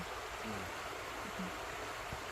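Flowing stream water, a faint, steady broadband rush that runs continuously without pause, with a few soft low tones underneath.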